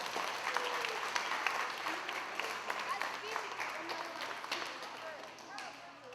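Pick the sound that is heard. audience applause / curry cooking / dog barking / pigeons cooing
audience applause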